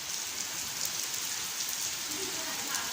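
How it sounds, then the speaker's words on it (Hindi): Steady rain pours down outdoors under a stormy sky, a dense, even hiss of drops pattering on surfaces that holds constant throughout with no voices. "देखो बारिश"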